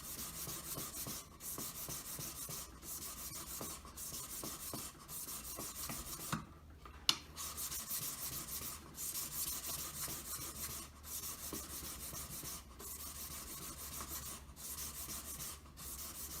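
A wedding ring is smoothed with fine buff sticks in a steady rhythm of soft, raspy rubbing strokes. Each stroke is close and quiet, with brief pauses as the ring is turned, and there is no talk.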